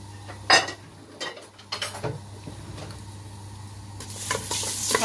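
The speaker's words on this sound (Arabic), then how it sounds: "بتحمص بصل" Onions hit hot oil in a pot for lentil and vegetable soup, a close sizzle with sharp bursts as they go in, mixed with spoon scrapes and clinks against the pot, and no talking.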